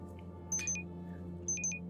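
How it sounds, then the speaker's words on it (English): Two brief clusters of high electronic beeps, each a quick run of three or four pips about a second apart, sound faintly over a steady low room hum. "you'll hear a beeping noise"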